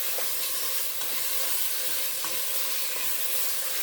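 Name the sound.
stirring chili with diced tomatoes and green chili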